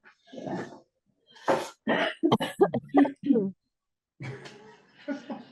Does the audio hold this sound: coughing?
yes